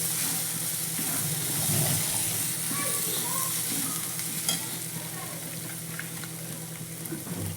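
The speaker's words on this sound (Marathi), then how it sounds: "अद्रक लसणाची पेस्ट छान प्रकारे आपण परतून घेतल्यानंतर थोडासा हळद आपण त्यात टाकलेली आहे ते सुद्धा व्यवस्थित आपण हलवून घेऊया" Ginger-garlic paste with turmeric being stirred as it fries for Nagpur-style patodi, a steady sizzle with soft scraping strokes, close and continuous, with faint tap-water splashing in the background.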